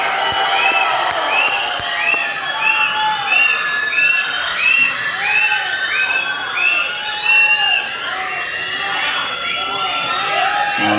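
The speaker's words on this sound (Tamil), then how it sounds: "நல்ல கைத்தட்டலோட நம்ம வீட்டு பிள்ளைனா எம்ஜிஆர், எங்கள் வீட்டு பிள்ளைனா வேற யார், அண்ணன் எஸ்கே அவர்களை பேச அழைக்கிறோம்" A crowd cheers, whoops and shouts loudly in a large hall as a speaker is invited to the stage at a public event, a continuous roaring wave of voices with some clapping.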